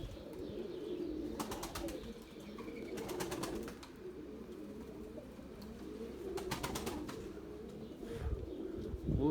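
Pigeons perched on a satellite dish coo in low, soft phrases over steady outdoor background noise, with occasional brief sharper sounds between the calls.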